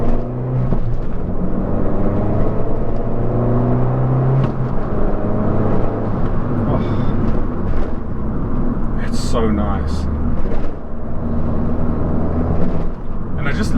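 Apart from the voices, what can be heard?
Fiat 500 Abarth Essesse engine and ram air intake induction noises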